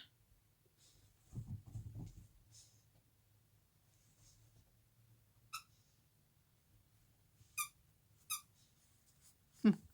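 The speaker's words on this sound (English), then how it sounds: "Someone's squeaking her little toy." A dog's squeaky toy gives several short, sharp squeaks spaced apart, fairly close, over a quiet indoor room with faint low rustling and handling noise.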